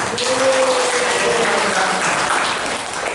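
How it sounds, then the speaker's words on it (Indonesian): A crowd of school teachers claps continuously for a few seconds, a dense, steady wash of applause at fairly even loudness. "Tepuk tangan untuk kita semua."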